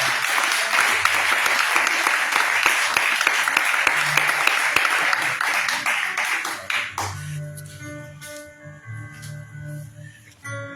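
A church congregation bursts into dense, loud applause lasting about seven seconds, then fades into a quieter room with a few scattered claps, tonal ringing and faint voices.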